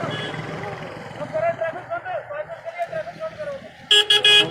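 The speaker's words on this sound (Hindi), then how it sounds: "ट्रैफिक यहाँ पे काफ़ी है, आप देख सकते हैं।" Street traffic near a canal in Trikuta Nagar, with someone talking throughout over engine noise. A loud burst of car horn toots comes near the end.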